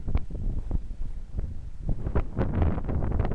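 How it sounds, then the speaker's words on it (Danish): Gusty wind blows outdoors, buffeting the microphone in loud uneven rumbles and rushes, with faint rustling mixed in. "Vinden blæser."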